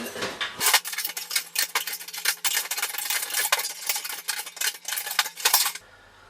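A homemade metal charcoal can being opened: a long run of dense metallic scraping, clanking and rattling, loud and close, ending with a sudden stop.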